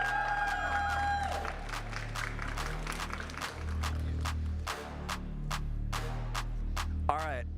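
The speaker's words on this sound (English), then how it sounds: "Please give a big round of applause for" Spectators at a Pokémon regional championship in Milwaukee clap and cheer for the third-place winner, a dense, sustained patter of applause over a low musical bed, with a voice breaking in near the end.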